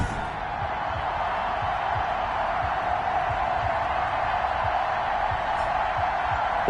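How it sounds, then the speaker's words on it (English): A video game NFL stadium crowd for a Houston Texans at Indianapolis Colts game, a steady, distant wash of murmuring and cheering that goes on throughout with no clear peaks. "This crowd is ready as their guys get set to match up between the Houston Texans and the Indianapolis Colts."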